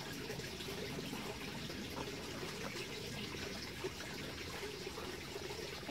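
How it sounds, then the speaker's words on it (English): Water pours steadily onto the soil of a freshly potted hoya cutting, a soft continuous trickle close by with no talking. "And I'm going to add water here."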